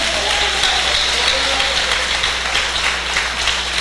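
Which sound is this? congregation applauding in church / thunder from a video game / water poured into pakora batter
congregation applauding in church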